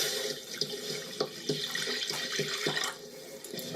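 Tap water runs steadily into a sink while goat meat is washed for a cauliflower and goat curry, a continuous close splashing with small clinks and knocks of meat and bowl, and no voices.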